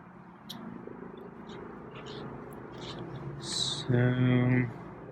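A feral cat meows near the microphone, a short harmonic cry late in the clip over low background murmur and faint rustling.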